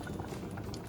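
Cherry jam at a hard rolling boil in a pot, dense steady bubbling and popping that stays close and continuous throughout the short stretch with no voices.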